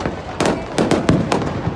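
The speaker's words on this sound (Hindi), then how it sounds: "ऊपर बम पटक रहे हैं ये देख लियो" Firecrackers burst during a night Diwali celebration in Nashik, several sharp explosive cracks spread over under two seconds at moderate distance, over a steady background rumble.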